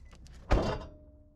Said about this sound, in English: listen to the sound it makes when you close the door